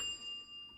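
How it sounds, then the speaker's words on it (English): A bell rung in celebration gives a single clear, sustained ringing tone that lingers and slowly fades, heard alone and fairly soft. "Ring the bell."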